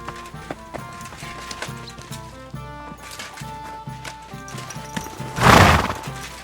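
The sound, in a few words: horse neighing and hooves clopping, from video game Kingdom Come Deliverance 2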